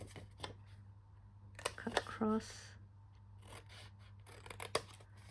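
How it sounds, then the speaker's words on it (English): Scissors cut across folded paper panels while making a mini envelope and tag holder for flat mail, giving a few brief crisp snips and rustles mixed with soft handling noise against a steady low hum. "And I'm going to cut across."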